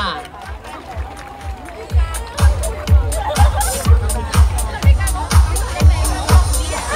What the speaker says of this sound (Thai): และขอเสียงปรบมือด้วยค่ะ